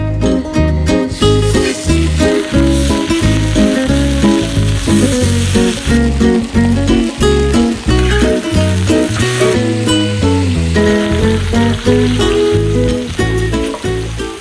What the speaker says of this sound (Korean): 삼겹살 그대로 맛있게 한번 구워 볼게요